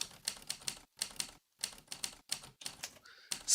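Close, quiet typing on a computer keyboard comes in short rapid bursts of key clicks separated by brief pauses, ending with a louder clatter.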